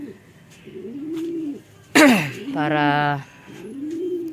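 Pigeons in a loft give soft, rounded coos at a moderate distance, and someone speaks briefly between them.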